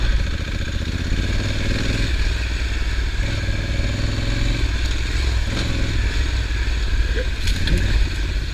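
A Honda Africa Twin adventure motorcycle on a Mount Hood trail, its engine droning and revving steadily up close while wind and clattering splashes blend in as it pushes through water.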